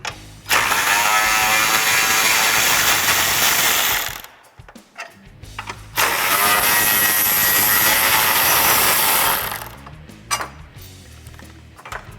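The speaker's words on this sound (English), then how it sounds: "With a 13mm socket, remove the brace on the outside of the fog light." A ratchet with a 13mm socket loosens a fog light brace on a 2018-2022 Ford F-150, two long runs of rapid loud clicking close by, separated by a short pause and fading into quieter handling noise.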